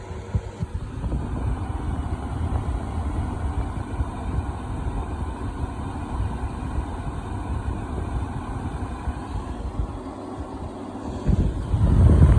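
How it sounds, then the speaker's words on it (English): A Midea 5000 BTU window air conditioner runs with a steady broadband fan rush and low hum, and near the end the compressor kicks on, the low-frequency rumble swelling noticeably louder, close to the microphone. "Oh, here, the compressor kicked on."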